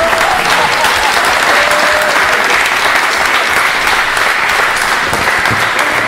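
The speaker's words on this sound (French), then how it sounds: "on peut l'applaudir" An audience applauds during evening games at a podcast festival, sustained and loud clapping from a crowd filling the whole stretch without a break.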